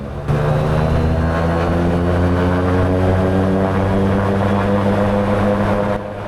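An abandoned flying boat's propeller engine at full takeoff power, a loud, sustained droning roar with steady harmonic tones, close and continuous with no talk.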